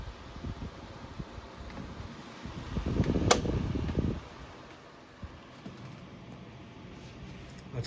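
A Windmere RF-1010 rotating louver fan runs with a steady, soft whir and a faint high whine, with a brief rustling knock partway through.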